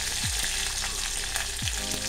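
A tempering of mustard seeds, urad dal, cumin, red chilli pieces and curry leaves sizzles hard in hot oil, a continuous close crackle with a couple of short thumps.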